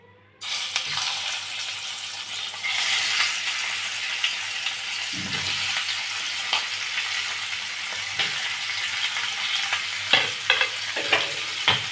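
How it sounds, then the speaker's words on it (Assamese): Fish fries in a pan with a steady, loud sizzle that runs nearly the whole time, with occasional clinks and stirring scrapes layered on top and no talking. "এতিয়া আমি মাছখিনি ফ্ৰাই কৰি ল'ম।"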